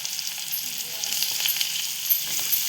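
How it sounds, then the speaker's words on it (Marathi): Tomatoes hitting hot oil for a prawn and drumstick curry give a steady, bright sizzle that holds through, with faint stirring ticks and no talk. "यात आता आपण टाकले टोमॅटो"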